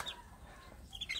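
Young village chicks kept in a wire-fenced pen give faint, high peeping clucks, a few brief calls near the start and a small cluster at the end over a quiet background.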